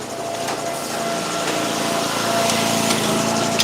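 Chainsaw with an unevenly sharpened chain cutting firewood, a steady high buzzing engine drone that holds at a constant loud level throughout with no talk.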